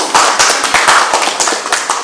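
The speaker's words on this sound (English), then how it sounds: "Give yourself a round of applause" An audience at a Ramayan Yagya night gathering gives a round of applause, a close, loud burst of irregular, fairly sparse claps over about two seconds.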